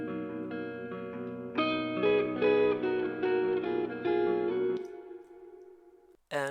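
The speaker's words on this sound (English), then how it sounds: "And I also made a guitar fill that sounds like this." A real guitar plays a short fill for a beat made in Studio One, with clear sustained notes and a brighter strummed section in the middle. It rings out through echo-like effects and fades into near silence.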